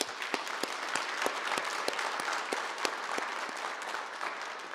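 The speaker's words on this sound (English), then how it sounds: "join me in a round of applause for all of our supporters" Steady audience applause for sponsors at a spring economic forecast event, a dense wash of many hands with a few sharper individual claps standing out, sustained throughout.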